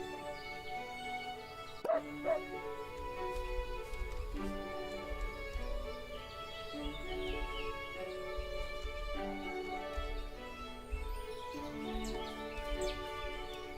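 A dog barks, yips and whimpers in the farming game Everdream Valley, with short repeated calls over steady game music and ambience, at moderate volume.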